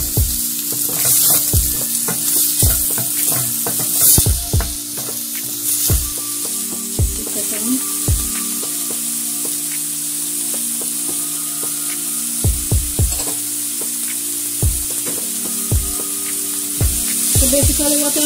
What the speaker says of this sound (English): Adding the onions. So what I'll do, I'll just stir fry this.